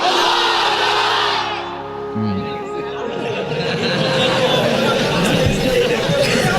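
A large crowd at a Bangla religious gathering loudly shouts the takbir in unison, a dense roar of many voices that swells, dips briefly and rises again throughout.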